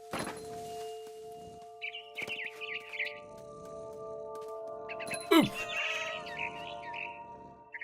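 A cat meows in the game What Remains of Edith Finch, a short rising cry amid bird chirps, soft thuds and a steady ambient drone, with a voice speaking over parts of it.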